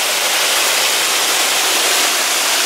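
Water crashing down over rock at a mountain waterfall, a loud, steady, unbroken roar of falling water heard close by, with no voices.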